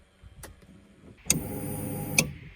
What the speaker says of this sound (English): hopefully we'll be able to hear the fuel pump